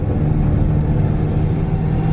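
A manual Ford Ranger pickup driving in second gear gives off a steady, loud, low engine rumble from inside the cab, with no voices.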